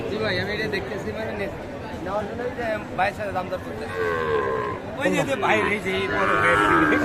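Sahiwal breed cattle moo loudly at a livestock market, several drawn-out calls overlapping with people talking and a busy crowd babble around them.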